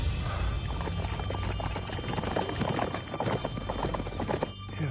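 A horse loping along a ridge toward a road, its hooves clip-clopping in a steady, rapid rhythm throughout, fairly close and continuous with no talk over it.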